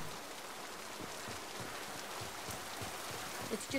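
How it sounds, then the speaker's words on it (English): Steady rain falls in the video game Mass Effect 2 Legendary Edition, a soft, even hiss of drops on surfaces that continues without a break at low volume. "Blimey, the rain effects on the armor is really nice."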